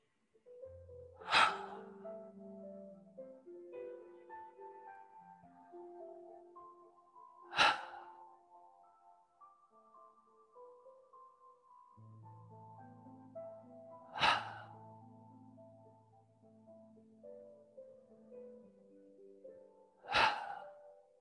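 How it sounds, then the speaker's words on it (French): Slow, deep breaths during a qi gong exercise: four sharp, audible breaths spaced about six seconds apart over soft, sustained background music, with no speech. "Inspire au ventre."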